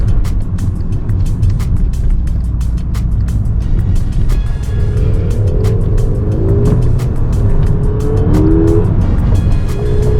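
A VW MK6 with a newly replaced clutch cruising on a highway, steady loud road and engine drone heard from inside the car, with faint clicks and rising tonal whines in the second half.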